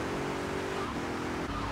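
In GTA Vice City, a car engine drones steadily and loudly during a race, a continuous whining roar with little variation over the short stretch.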